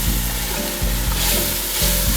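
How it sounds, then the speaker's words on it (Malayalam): Shallots and onions sautéing with ginger garlic paste for karimeen pollichathu, a loud continuous sizzle close up with a few rhythmic stirring scrapes, no talk. "ഇതിലേക്ക് നമുക്കിനി എടുത്തു വെച്ചിരിക്കുന്ന ചെറിയ ഉള്ളിയും സവാളയും കൂടി ചേർത്ത് വഴറ്റാം."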